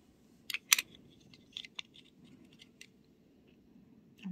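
A couple of crisp snipping sounds from scissors cutting paper, followed by a few lighter clicks and rustles in an otherwise quiet room.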